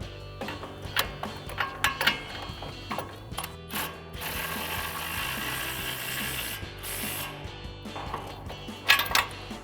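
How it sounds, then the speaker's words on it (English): A ratchet with an 18mm socket and swivel adapter tightens a ball joint nut on a 4WD Ford F-150 front suspension, giving bursts of rapid clicking pawl strokes, several separate runs close to the mic. "Now we'll bring back our 18mm socket and swivel adapter and tighten down our ball joint nut."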